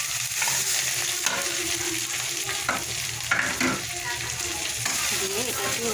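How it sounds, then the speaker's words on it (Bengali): Spiced potatoes, lentils and rice are sautéed in a pan, giving a loud, close sizzle with repeated scraping and clanking of a spatula stirring throughout. "এটাকে এবারে ভালো করে কষাবো"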